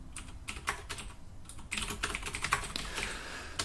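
Code being typed on a computer keyboard, with brisk irregular key clicks close up that speed up into a denser burst about halfway through, and no talking.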